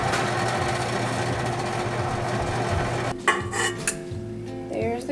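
A microwave running on defrost to soften cream cheese gives a steady mechanical hum that cuts off partway through, followed by clicks, clanks and a short rattle of handling close by.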